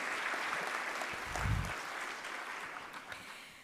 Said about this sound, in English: let's give them a round of applause for being so amazing